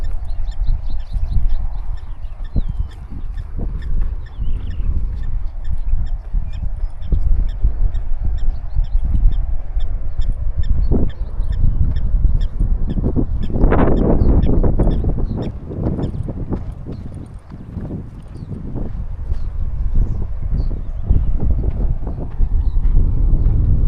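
Water birds at Rietvlei Wetland Reserve in Cape Town honk and call in a busy, goose-like chorus, loud and close, with wind rushing across the open wetland throughout.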